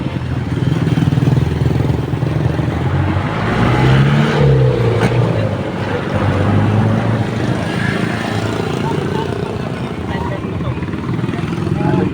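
A small Philippine motor tricycle engine rumbles and revs close by at night, rising and falling, with people talking over it in Filipino.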